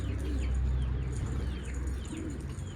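A pigeon coos close by in soft, repeated low throaty calls, with faint chirps from other birds in the background and no talking.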